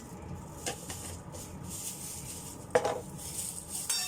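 A spoon or spatula scrapes and clinks against a pan while food is mixed with cornstarch, giving a few sharp metallic knocks over a steady low stirring rustle, close and moderately loud.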